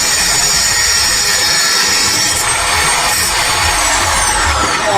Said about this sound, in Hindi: ड्रिल मशीन से लोहा काट दिया।